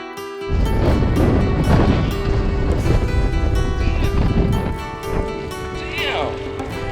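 Strong wind blows across the open desert at Trona Pinnacles, a loud, continuous rushing roar with buffeting gusts that swell and ease, dominating throughout.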